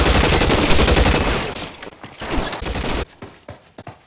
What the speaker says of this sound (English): What the fuck is the machine gun?